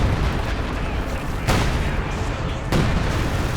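Artillery strike in the Company of Heroes 2 strategy game: continuous rumbling battlefield barrage with two sharp, loud impacts standing out about a second apart, close and heavy, no voices over it.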